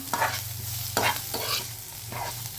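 Onion frying in oil in a home kitchen pan, with a close, steady sizzle broken by three or so scraping stirring strokes.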